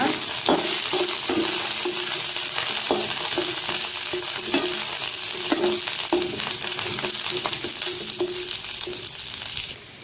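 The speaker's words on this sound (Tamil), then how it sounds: "பூண்டில் ஈரப்பதம் இல்லாமல் நல்லா ரோஸ்ட் பண்ணிக்கோங்க" Garlic roasting dry in a pan for Andhra paruppu podi gives a steady, loud sizzle with regular scraping strokes of a spatula, no voices.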